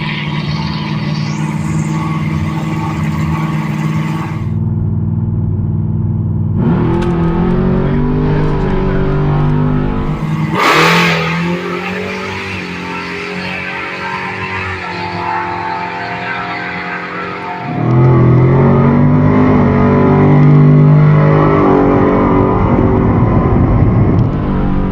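A drag race between a blower-and-nitrous Camaro and a Tesla Plaid: loud engine roar and revving build and shift, a sharp burst near the middle, then a sustained roaring pass as the cars run down the strip.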